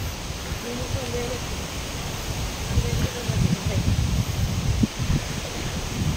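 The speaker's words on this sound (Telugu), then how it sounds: "మీరు ఆ గాలి సౌండ్ కూడా వింటూ ఉండుంటారు." Strong wind rushes through swaying trees in the hills around Arunachala, a steady broadband roar with gusty swells, while a voice is faintly heard beneath it.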